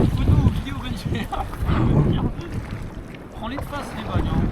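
Waves slap and wash against a kayak at sea off southern Finistère, with heavy wind buffeting the microphone and voices talking over the rough water.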